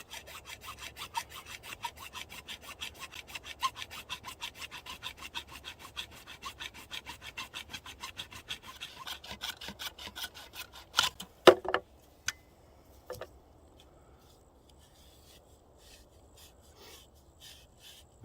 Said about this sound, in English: Let's cut that off. A reciprocating saw works much better.